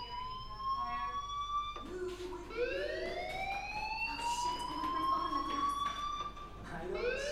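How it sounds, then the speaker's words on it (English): Fire alarm in the game Life Is Strange, heard as continuous electronic siren-like tones that rise and sweep upward, ringing loudly over a steady background with no talking. "Hey, do you hear that fire alarm?"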